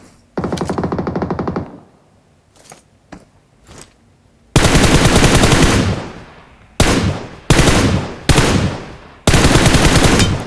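Rapid automatic gunfire in the PUBG video game, several loud bursts of varying length separated by short pauses and a few single shots, close and dominant with no talking.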